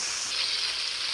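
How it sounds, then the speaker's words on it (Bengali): Chicken pieces for chili chicken frying in a pan over low heat, giving a steady, close, dense sizzle with no one speaking. "ভাজা হচ্ছে।"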